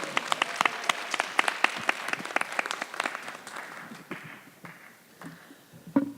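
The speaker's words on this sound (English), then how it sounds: "Let's give him a round of applause again" An audience at the close of a session at a Howard University opioid symposium claps in a burst of distinct, fairly close hand claps that thin out and fade toward the end.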